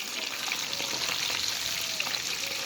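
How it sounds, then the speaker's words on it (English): Fish frying in hot oil in a pot during home Sunday dinner cooking, two pieces at a time: a continuous close sizzle with scattered crackles and pops, no talk. "I'm gonna put fish in a pot now"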